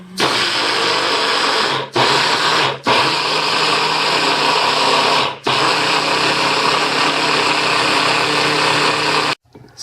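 Oats being pulsed into flour in a blender: a loud, close, steady motor whine runs in long bursts, cut by three brief pauses and a final stop.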